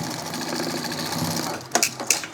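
A sewing machine stitches zipper ends onto a tote bag through one exterior and one interior fabric layer. Its motor whirs steadily and loudly up close, then stops with a few sharp mechanical clicks.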